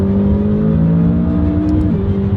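A supercar engine in track mode holds a loud, steady, deep droning note up close, its pitch dipping slightly near the end, with no voices.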